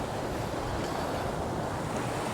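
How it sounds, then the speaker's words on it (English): Ocean surf at an Aruba beach breaks against stones in a continuous, loud wash of rushing water mixed with wind noise on the microphone, with no voices. "they do help holding off the large waves and the water a little bit, break it up"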